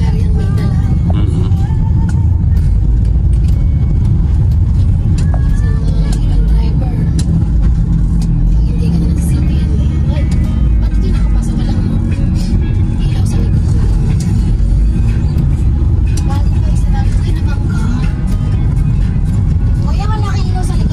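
Large truck rumbling along a bumpy, potholed pier road at Dalahican Pier in Lucena, a heavy continuous low engine drone with rattles and knocks, close by, while people talk over it throughout.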